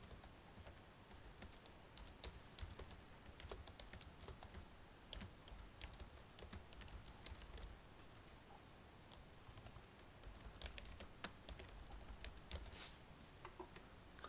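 A computer keyboard being typed on, likely entering a name in a drawing program's font tool: quick, irregular keystroke clicks run steadily throughout at a modest level, close by, with no speech.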